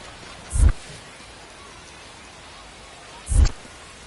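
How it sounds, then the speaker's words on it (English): Rain falls steadily at a ballpark in the MLB The Show 26 baseball game, a soft constant hiss broken by two heavy low thumps. "the rain's still a factor here"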